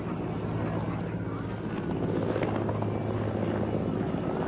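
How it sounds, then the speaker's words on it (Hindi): A helicopter flies overhead with a steady, continuous rotor drone that holds loud and even, with faint wind noise mixed in and no clear talk. "हेलीकॉप्टर है गाइस, ये देखो।"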